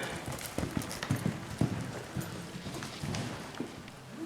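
A horse lopes past, hooves drumming in an uneven rolling clip-clop on soft ground amid background noise.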